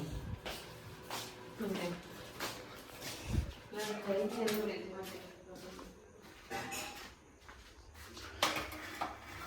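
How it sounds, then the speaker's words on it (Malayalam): Dishes and plates clatter and knock together at close range as a large plate is picked up in a home kitchen, with someone talking over the clinking throughout. "പ്ലേറ്റ് എടുക്കട്ടെ"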